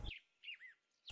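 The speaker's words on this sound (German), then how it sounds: "Vogel." Faint, brief bird chirps in a cartoon forest: two or three quick high tweets in a quiet gap between louder sounds.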